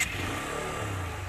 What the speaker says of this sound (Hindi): तो बाइक को हम थोड़ा सा अभी स्टार्ट करते हैं।